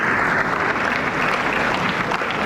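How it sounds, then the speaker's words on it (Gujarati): Crowd applause greeting the president of Shri Poona Gujarati Bandhu Samaj at the inauguration of the Jairaj Sports & Convention Centre, a steady dense clapping that holds at full level for the whole stretch. "તો આપણે તાળીઓના ગડગડાટથી એમનું સ્વાગત કરીએ."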